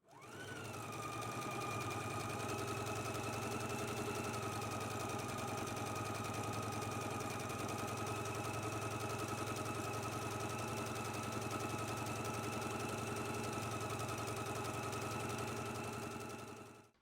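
A sewing machine runs a 2.5 regular straight stitch all the way down a garment's side seam. The motor hums steadily and evenly for about sixteen seconds, with a fast needle rattle, then stops.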